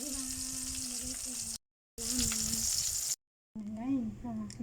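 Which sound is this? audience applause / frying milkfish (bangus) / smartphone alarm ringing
frying milkfish (bangus)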